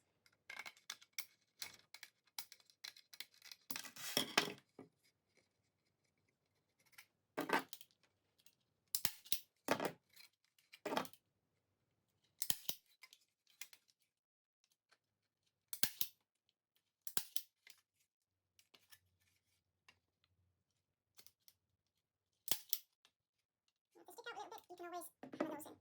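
Scissors snipping bonsai pot mesh to size while repotting a spruce, heard as short, sharp cutting bursts spaced a few seconds apart, with brief talk between cuts.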